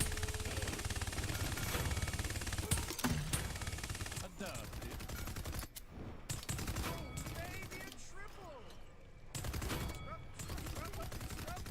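Tyra's crossfire ultimate in Paladins, rapid sustained automatic gunfire in dense bursts with short gaps, loud against game effects.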